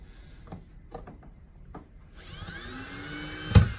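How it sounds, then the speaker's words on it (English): Screws being driven in to mount a smoke detector, with a few faint taps, then a whining powered screwdriver rising and spinning for over a second, ending in a sharp knock. "let's put some screws in there and see if this works."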